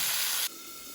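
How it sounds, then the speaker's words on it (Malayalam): Cauliflower pieces shallow frying together in hot oil in a pan: a loud, steady broadband hiss that drops abruptly to a quieter, even sizzle halfway through, with no talk. "ഒന്നിച്ചൊന്ന് ഷാലോ ഫ്രൈ ചെയ്തെടുക്കുക"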